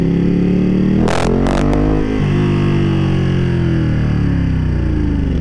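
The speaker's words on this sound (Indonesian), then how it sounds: "backfire-nya tuh loh menyenangkan banget suaranya" Ducati Panigale V2 two-cylinder motorcycle engine roaring loudly up close, with a few sharp exhaust backfire pops cracking over the sustained engine drone near the start.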